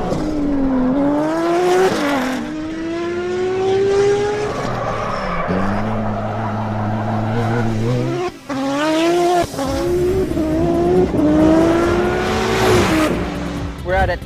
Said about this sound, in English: At El Toro Air Force Base, testing the new PM580 Pikes Peak Hyundai.